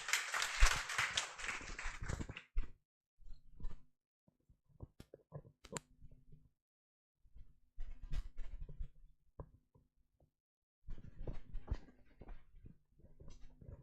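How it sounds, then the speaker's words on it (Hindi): A crowd applauds to welcome a teacher at a Teacher's Day celebration in a classroom setting. A dense burst of clapping opens loudly, then breaks into scattered, uneven patches of claps separated by short pauses. "तो सर का जोरदार तालियों के साथ स्वागत करिए।"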